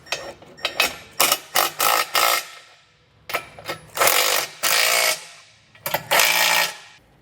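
Rapid bursts of a ratchet driving a 15 socket as it snugs hitch bolts on a bumper beam, several quick clicking runs separated by short pauses, close and loud.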